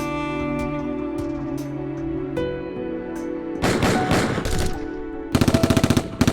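Two bursts of rapid machine-gun fire rattle out, the second sharper and more distinct, over a low humming background.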